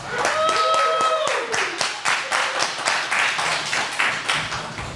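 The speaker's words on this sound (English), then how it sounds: "give her a round of applause" Audience applause at a small local event in Westerly, a round of clapping that starts under a brief tonal sound and continues as distinct, fairly loud claps from a modest group.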